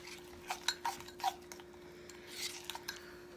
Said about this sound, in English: I'm just going to mix it on up, just like a cake mix.